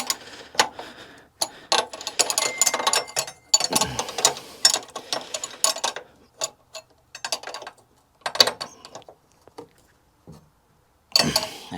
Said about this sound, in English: Let's just crank that lock nut up so it doesn't come loose.